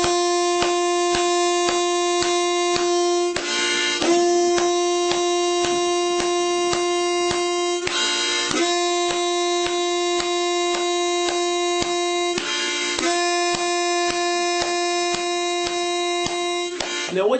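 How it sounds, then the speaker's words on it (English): A harmonica two-hole draw is played clear and loud, long sustained reedy chords repeated in four even blows, each separated by a short breathy break, with faint tapping beneath. "I want you to play the clearest, loudest two-hole draw that you can."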